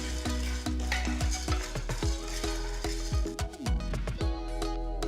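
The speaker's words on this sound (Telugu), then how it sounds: "దీనికోసం ఒక ప్యాన్లో రెండు టేబుల్ స్పూన్ల పచ్చి శనగపప్పు ఒక టేబుల్ స్పూన్ మినపప్పు వేసి రెండు నిమిషాలు వేయించాలి" Chana dal and urad dal dry-roasting in a pan: a steady light sizzle with repeated scraping and stirring strokes of a spoon against the metal, close and fairly quiet, with no talking.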